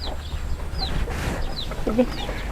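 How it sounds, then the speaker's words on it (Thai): Fighting rooster clucking outdoors among other fowl, a few short clucks and chirps over steady background noise and faint voices, fairly distant rather than close. "อันนี้ก็ปล่อยนี่เป็นไก่ชน"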